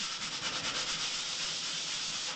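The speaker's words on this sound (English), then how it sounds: "So it's very, very light sanding. In a circular motion," Very light circular sanding of ultra-fine body filler on plasterboard gives a soft, steady rubbing hiss that stays close and continuous, with no talk.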